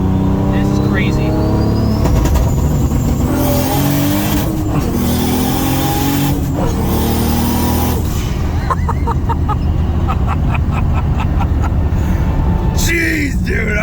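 Toyota Supra engine revving hard with launch control or anti-lag, loud and close throughout with rising and falling surges, a burst of rapid crackling pops near the end, and people talking over it.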